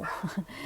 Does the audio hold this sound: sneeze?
no